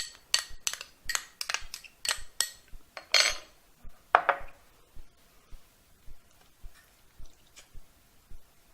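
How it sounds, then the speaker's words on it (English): Kitchen utensils stir chopped chili into juice for an oyster dressing, making a quick run of sharp metallic clinks and scrapes against a bowl, then sparser, softer taps, close and clear with no voices. "I'm going to mix this just to infuse the chili with the juice."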